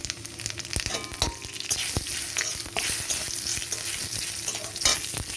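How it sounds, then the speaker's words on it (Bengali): Bay leaf and panch phoron spices fry in hot oil for a mango chutney, giving a steady close sizzle with sharp pops and spoon-stirring clicks throughout, no talking. "পাঁচফোড়নটা ভাজা ভাজা হয়ে গেছে।"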